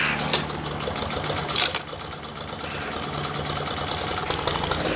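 A Honda IZY lawnmower engine sputters into life and settles into a steady, buzzing run, loud and close, with a couple of sharper knocks near the start.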